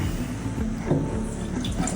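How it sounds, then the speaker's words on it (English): Water pours steadily into a Dominican coffee maker, a continuous close splashing and gurgling stream with no break. "We're gonna fill the water to right here"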